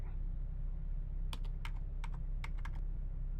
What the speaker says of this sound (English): I love the keyboard noises, the beeps